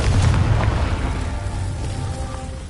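A Confringo fire spell blast in Hogwarts Legacy, a deep booming explosion that starts loud and rumbles on, slowly fading over a few seconds with no talking.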